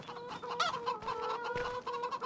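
Chickens cluck repeatedly in a Farming Simulator 25 farmyard, a steady, fairly close chatter of overlapping hen calls with no talking.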